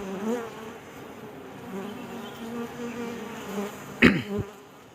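Honey bee colony in a hive box, a fairly quiet colony: a continuous close, low buzzing drone of many bees, with a sharper brief buzz as one bee passes near near the end.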